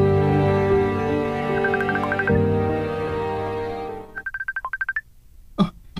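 A cellphone ringtone plays as a repeated melodic beeping phrase, first under a loud musical backdrop and then clearer and alone near the end in rapid bursts, followed by a short thump.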